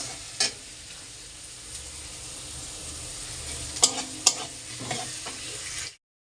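Onions and chillies fry in a pan with potatoes and salt while a spoon stirs, a faint, steady sizzle broken by a few sharp scrapes and clinks before the sound cuts off.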